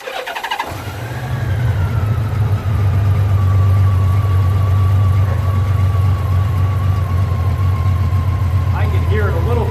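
A 2004 Honda Valkyrie Rune motorcycle engine cranks briefly, then catches and settles into a loud, steady, smooth idle heard close up and continuing alone for several seconds.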